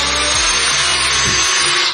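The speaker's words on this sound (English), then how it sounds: "I'm going to use a little drill here to make a pilot hole first on the 2 marks" A small drill bores a pilot hole into a wall, a loud, steady, close whine that runs continuously throughout with no talking.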